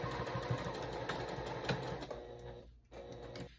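A sewing machine back-stitches through the thick top of a 36-inch circular bag, a close, steady, rapid mechanical whir that slows and briefly pauses near the end.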